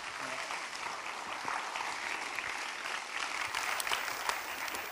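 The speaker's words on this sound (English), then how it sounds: "Please give a large round of applause for Jack." Audience at a panel debate applauding to welcome a panellist, Jack: a steady, moderately distant wash of many hands clapping, even in level throughout, with no talking over it.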